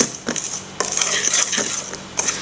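Flour being stirred into cheese-cake batter for a Lithuanian cheese roll cake, with a utensil scraping and knocking against a bowl in several short strokes, close and clear.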